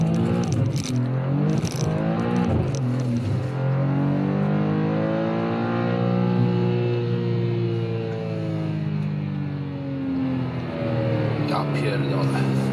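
A BMW M2 G87 accelerates hard on a wet road, its engine note climbing steadily in pitch and staying loud and close for the whole stretch, with a voice heard over it.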